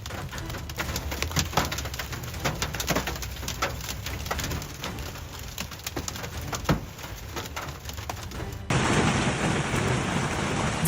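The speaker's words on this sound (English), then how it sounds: "Violent hail slams northern Tennessee, turning a fire station yard into a frozen field." Violent hail pounds a fire station yard in northern Tennessee during a storm. A constant dense clatter of impacts suddenly swells into a louder, heavier roar near the end.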